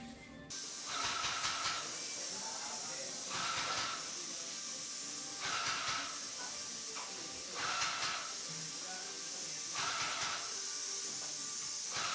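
Airless paint sprayer applying primer in repeated bursts, each hiss lasting about a second with short pauses between, a steady rhythmic spray pattern heard fairly close with no talk.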